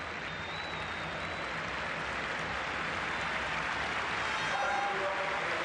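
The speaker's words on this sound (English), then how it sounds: "Wonderful applause for Gonzalo as he makes his exit" A large stadium crowd at an Argentina vs. Venezuela football match applauds in a steady, roaring wash of clapping, distant and continuous, with a faint whistle cutting through.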